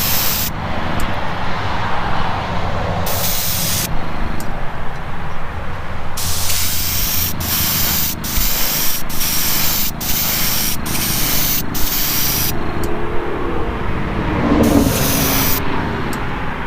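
Black paint sprayed onto a custom 1955 Chevy gasser: repeated close hissing bursts of a spray gun, some long and some short in a quick on-off rhythm, alone without talk.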